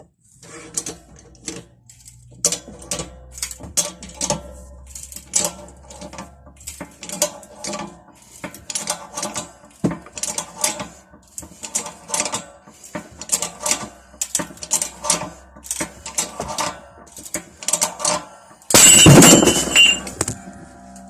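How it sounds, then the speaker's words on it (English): An old bent wrench is straightened in a hydraulic press, with a series of sharp metallic clicks, creaks and taps at irregular intervals and a loud cracking burst near the end. "let's get it onto the hydraulic press and get this bent old thing a bit straightened"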